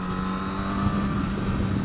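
Motorcycle engine running steadily with its throttle butterfly valve jammed open, a loud, even, close-up drone with no change in pitch.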